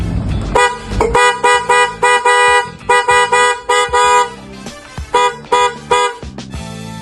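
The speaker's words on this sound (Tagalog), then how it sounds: "yun yung tunog ni TM80N" A Marco TM80N electric car horn honks repeatedly in short and longer bursts, loud and close, with a slightly buzzy, bassy tone and brief gaps between blasts.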